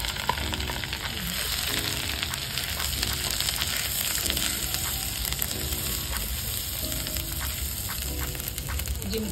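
Spice paste for tandoori paneer sizzles in hot butter in a home kitchen, a steady, even frying hiss with soft crackles running throughout and no talking.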